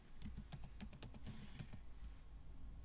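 Rapid keystrokes clatter on a computer keyboard in a quick run of a dozen or so taps, close and fairly soft over a steady low hum, trailing off into room noise; no talking.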